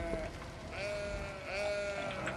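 Sheep bleating in the city-building game Cities Skylines, a few quavering bleats over a soft ambient backdrop, fairly faint.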